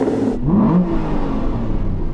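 An Aston Martin 4.7 V8 engine revs up sharply, then settles into a steady, throaty idle rumble close by, with no talking.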